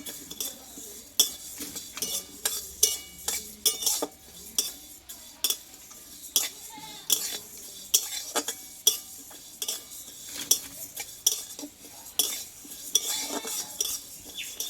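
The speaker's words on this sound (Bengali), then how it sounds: "একটু কড়া কড়া করে ডালটা কিন্তু একটু ভেজে নিতে হবে" Mung dal roasts dry in a pan while a metal spoon stirs and scrapes it, producing repeated clinks and scratchy rattles in an uneven rhythm at close range, with a faint sizzle underneath.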